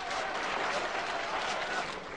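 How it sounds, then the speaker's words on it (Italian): Dense applause from a crowd, continuous clapping at an even, fairly loud level that holds steady before cutting off abruptly. "42 minuti di applausi"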